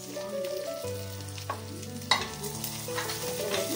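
Melon seeds and poppy seeds roasting dry in a pan, a soft steady sizzle with a few sharper scrapes and taps of the stirring spoon.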